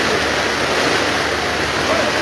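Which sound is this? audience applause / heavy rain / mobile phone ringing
heavy rain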